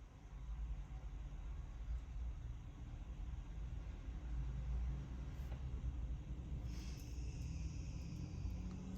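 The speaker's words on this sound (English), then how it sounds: "Some noisy car outside, or whatever that was." A low, steady rumble of a car passing outside fills the clip, muffled and distant, with faint higher noise toward the end.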